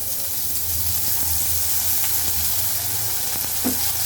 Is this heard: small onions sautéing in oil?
yes